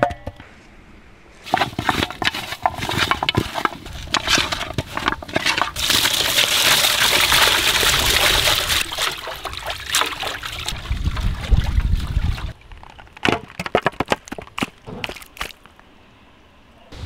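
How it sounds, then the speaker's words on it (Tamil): Raw mutton pieces rinsed by hand in water with turmeric powder, giving close, continuous sloshing and trickling with scattered splashes, swelling in the middle and tapering into short drips and handling noises. "ஆட்டுக்கறியை மஞ்சத்தூள் போட்டு நல்லா கழுவி எடுத்துக்கலாம்."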